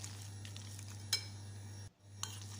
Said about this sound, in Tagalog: So halo-haluin lang natin yung ating mga sangkap para mag-combine